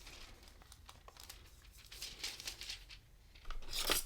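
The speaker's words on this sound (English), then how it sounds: "I will just cut a piece of that." A piece of gold sparkle hot foil is cut and handled, giving faint crinkling and soft snipping sounds in a quiet, close setting, growing slightly louder at the end.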